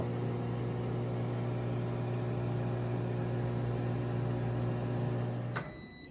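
A microwave oven heating matar paneer hums steadily for several seconds, then the hum cuts off and a few high electronic beeps sound near the end.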